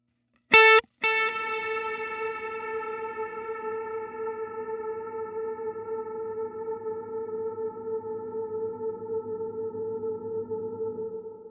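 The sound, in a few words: guitar through Line 6 Helix Heliosphere delay, long reverb decay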